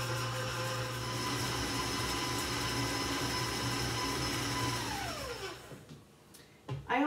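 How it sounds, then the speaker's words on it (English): An electric stand mixer with a paddle creams ingredients for Norwegian kringla cookies. A steady motor whir and hum runs close by, then winds down and stops, leaving a few faint knocks. "So we're gonna go ahead and put the paddle into the mixer."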